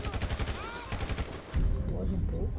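Rapid bursts of video game gunfire, loud and dense, with a heavier blast partway through, followed by sustained rumbling.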